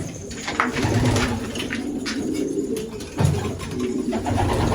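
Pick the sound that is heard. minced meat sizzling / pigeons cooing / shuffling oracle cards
pigeons cooing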